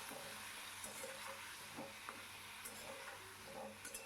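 Ivy gourd fries in a pan with salt and turmeric, a steady soft sizzle running throughout with occasional scraping stirs, close and fairly quiet with no voices.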